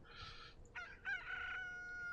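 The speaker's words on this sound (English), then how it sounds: "You crow all you like, Mr. Chicken." Rooster crowing in the train-and-logistics game Transport Fever, one drawn-out cock-a-doodle-doo with a few short clucks before it, clear but fairly quiet over a light background hum, no talk.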